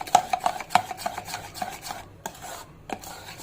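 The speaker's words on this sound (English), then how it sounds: "Now I will be adding a pinch of baking soda and will give to it another whisk." Vada batter with a pinch of baking soda being whisked in a bowl: irregular scraping and tapping strokes of the whisk against the bowl, close and fairly quiet, with short pauses between bursts.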